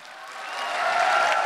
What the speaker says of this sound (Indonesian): tepuk tangan buat Fajar Nugroh